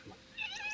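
A cat gives one short, faint meow, rising briefly at the end of a quiet indoor moment.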